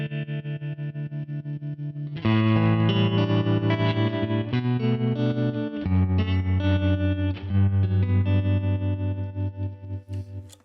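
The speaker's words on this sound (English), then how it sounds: "So as you turn this up, you get to very choppy" Electric guitar played through a UAFX Dream '65 Reverb amp pedal with tremolo turned up, sustained chords pulsing in a fast, choppy on-off rhythm, loud and close with no talking.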